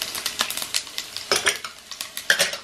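Garlic fries with cumin and mustard seeds in a pan for a chutney, giving a continuous crackling sizzle broken by rapid, close metallic spoon stirs and clinks, with no talking.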